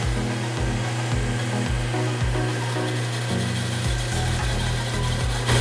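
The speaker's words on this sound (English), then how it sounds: "The belt's squealing a little bit, and that's because it's loose." An old Dayton 6Z117 two-inch belt grinder runs with a loose belt, giving a steady, loud motor drone with a faint squeal and a regular thumping pulse about twice a second.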